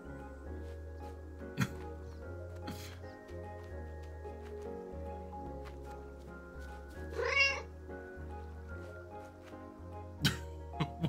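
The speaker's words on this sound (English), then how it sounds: "I have saved the kitty." A cat meows softly in a game setting, brief cries over a low looping music bed with occasional clicks and thumps.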